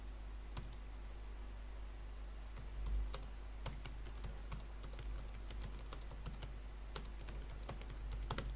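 Someone types an annotation on a computer keyboard, with irregular, quiet key clicks in scattered bursts over a low steady hum, close to the microphone.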